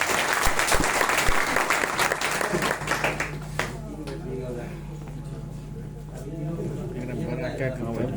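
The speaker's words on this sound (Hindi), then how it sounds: "ये लोग के लिए जो एक बार जोरदार ताली बजा दीजिए" An audience bursts into loud clapping that fades within about three seconds, then gives way to a steady hum and talking voices.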